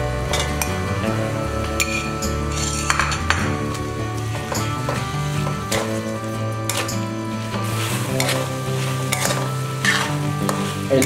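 Minced pork stir-fried with fermented fish paste (prahok) in a pan, a continuous busy sizzle and frying hiss with frequent scraping stirs and clinks of a utensil against the pan, loud and close with no talking.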